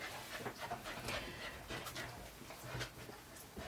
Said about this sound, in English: I've got the dogs decided to come in. I'm recording, so you've decided to be noisy, have you?